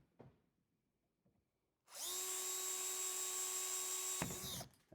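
A power drill whines steadily for about two seconds after a quiet stretch, then stops abruptly with a short clunk; close and loud.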